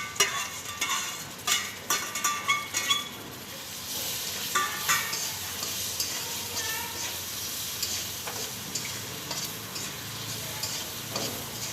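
Tomatoes stirred into frying masala for a Maggi noodle dish, starting with a quick run of rhythmic spatula scrapes and taps, then a steady close sizzle with occasional stirs, no speech.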